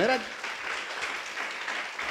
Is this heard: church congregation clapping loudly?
yes